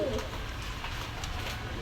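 Pakistani high-flying pigeons kept at a shop coo softly through a steady, noisy background hiss, with no clear talk over them.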